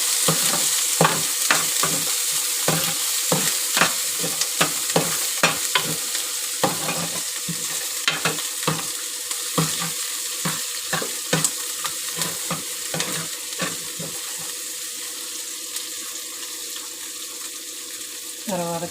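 Green chillies fry in an oiled pan for a cabbage curry while a spatula stirs them, giving a rhythmic series of sharp scrapes and taps over a constant sizzle, close and fairly loud.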